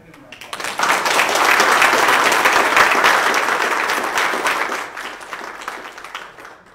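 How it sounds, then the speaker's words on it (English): A church congregation at a Sunday service gives a round of applause that swells quickly, holds dense and steady for several seconds, then fades out. "We just want to give them a round of applause"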